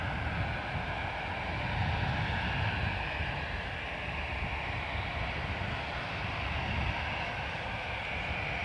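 A Delta heavy airliner on approach to runway 28 left at Dublin Airport, a continuous distant jet engine roar holding steady without any voices.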